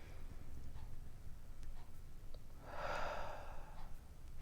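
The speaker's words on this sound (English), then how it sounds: "Take a breath in." A single slow, deep breath drawn in, soft airy and close, swelling briefly in the middle of an otherwise quiet, faintly noisy room.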